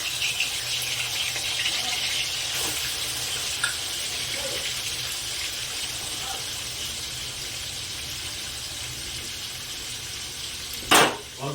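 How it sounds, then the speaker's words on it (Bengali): Chicken fries in white oil with salt and pepper, giving a steady, close sizzle throughout, with a brief sharp clatter near the end. "চিকেনটা ভাজা হচ্ছে"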